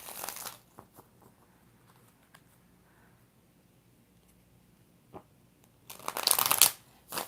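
Tarot cards are shuffled in short bursts, a quick riffle at the start, a few faint taps and flicks in between, then a louder, crisp riffle near the end, close by and with no speech.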